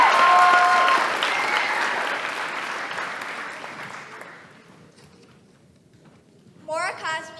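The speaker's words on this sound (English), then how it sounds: "I would also like to give a round of applause to all our eighth graders because this will be their last show" Audience applauding eighth graders after a school show: loud, dense clapping that fades gradually over several seconds, then children's voices speak briefly near the end.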